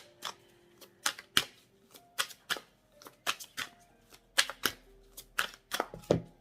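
Playing cards are dealt and laid down into three piles on a table, a quick series of sharp, close slaps and flicks in an irregular rhythm with short pauses between them.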